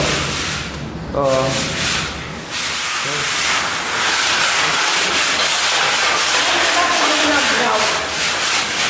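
Sandpaper rubbing a room wall before priming, a continuous loud hissing scrape with steady rhythmic strokes, a voice briefly heard early on.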